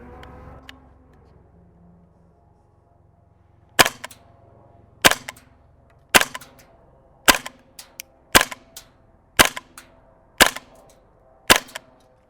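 A GHK G5 gas blowback airsoft rifle on green gas fires nine sharp, loud single shots about a second apart, each a crisp crack with a brief mechanical clack, after a few quiet seconds of low background hum.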